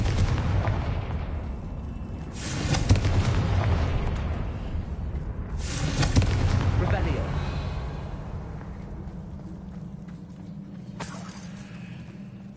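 A Confringo blasting spell from Hogwarts Legacy, with two heavy booming explosions a few seconds apart, each rumbling and slowly fading, followed by a sharper crack later on.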